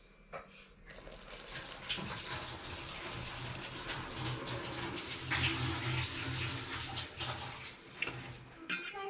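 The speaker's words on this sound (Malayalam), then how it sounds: "ഇതിന് വെള്ളം ഒഴിക്കാം കേട്ടോ" Water poured into a bowl of besan batter with chilli powder and salt for egg bajji, a steady splashing trickle running for several seconds close to the mic with small clinks.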